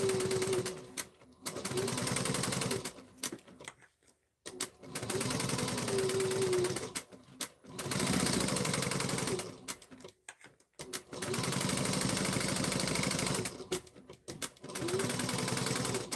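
A sewing machine topstitches a bag in several runs of rapid, steady whirring of a few seconds each, separated by short silent pauses, close and clear with no voices.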